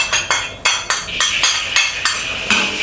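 Shrimp stir-fried in vegetable oil in a wok for pineapple fried rice: a spatula strikes and scrapes the metal in a steady rhythm of about ten sharp clanks over a continuous sizzle.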